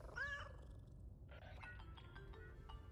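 A cat in the Death Stranding 2 video game gives one clear, close meow, followed by a softer, broken trill of mewing sounds over a low steady background hum.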